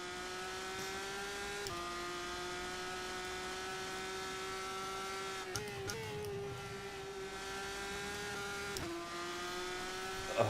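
A GP3 2018 race car engine in the rFactor 2 racing game holds a steady high whine, with brief dips at each gear change. It sounds close and constant, with no talk over it.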